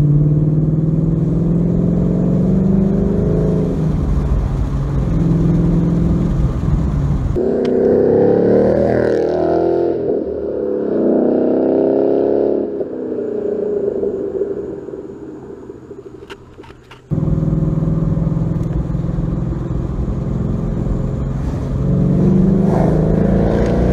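A 2013 Mustang GT 5.0 V8 rumbles as it drives through tight neighborhood corners, its engine note rising and falling as it accelerates hard, with a brief dip as the throttle eases before pulling again.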